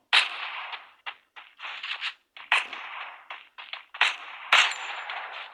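Bursts of gunfire in the mobile shooter Free Fire, a ragged series of sharp shots and short volleys with brief gaps, close and fairly loud, no talk.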